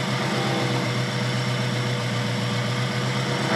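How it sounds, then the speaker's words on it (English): A Honda Civic, left abandoned and just restarted, idles steadily with a low, even hum and constant vibration, close by and without talk. "Man, she's starting to idle better now too."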